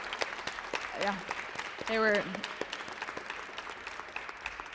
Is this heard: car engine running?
no